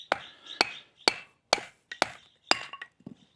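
A wooden baton stick hammers down on the spine of a Kizer knife driving it through a wooden dowel, seven or so sharp, close woody whacks at a steady half-second rhythm, the last ones softer, with no talking.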